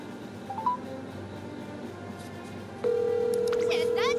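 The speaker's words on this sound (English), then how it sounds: "Make a phone call real quick." A phone call being dialed in the PC horse-racing game Umamusume Pretty Derby, with a steady dial tone followed by a rapid run of touch-tone key beeps, loud and close over a faint game background.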